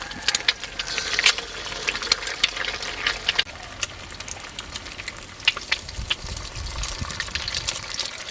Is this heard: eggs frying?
yes